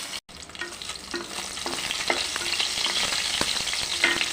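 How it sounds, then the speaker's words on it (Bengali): Soybean chunks frying in hot oil, a close, steady crackling sizzle that swells after a brief dropout at the start, dotted with light stirring taps. "কচুর শাকের জন্য সয়াবিনটা ভেজে নিচ্ছি আগে।"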